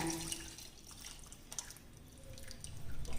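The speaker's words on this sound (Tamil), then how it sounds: "கொஞ்சம் தண்ணி தாராளமாகவே விட்டுக்கலாம் நல்லா தண்ணியாக தான் வைக்க போகிறோம்" Water poured generously into a cooking pot of spiced chest-bone soup made without coconut, a soft, steady splashing and dripping trickle heard alone at low volume.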